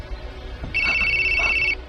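Telephone ringing as a horror podcast sound effect, one short electronic trill burst lasting about a second, clear over a faint low background.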